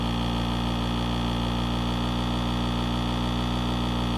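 Steady hum of a vehicle engine in Farming Simulator 22, an even, continuous mid-pitched drone that neither rises nor falls, close and loud, with no voices.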